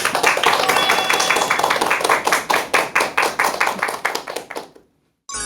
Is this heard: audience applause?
yes